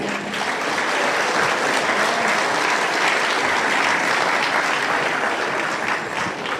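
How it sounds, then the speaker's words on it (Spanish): Church congregation applauding during a united worship service, loud continuous clapping from a large crowd that holds evenly for several seconds. "un fuerte aplauso para el Señor"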